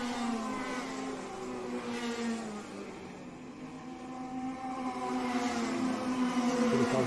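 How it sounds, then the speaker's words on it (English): Tillotson T4 racing karts on slick tyres scream past at full racing speed during a Latvian championship race, a sustained high engine drone that fades slightly mid-clip and then builds louder again. "We are now at full racing speed. Everyone on slick tyres, everyone trying to one-up the other."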